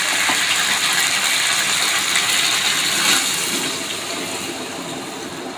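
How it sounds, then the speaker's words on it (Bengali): Water is poured into a pan of potato and pointed gourd curry, making a steady, loud hissing gush that carries on for several seconds before easing slightly toward the end. "এখন আমি জল দিয়ে দেবো।"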